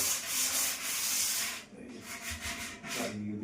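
Hand rubbing smooths the edges and corners of a woodwork piece after chiselling, a steady close scratchy sanding that runs continuously, with a brief pause and change in stroke partway through.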